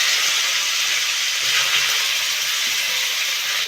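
Cauliflower florets frying in hot oil in a pan, giving a steady, close hiss and sizzle that holds evenly throughout with no talk.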